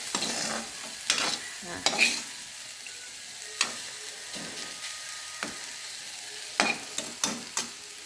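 Vegetables sauté in coconut oil in a pan, with a soft continuous sizzle broken by several sharp scraping strokes and clacks of a spatula at irregular intervals, close by and with no talking.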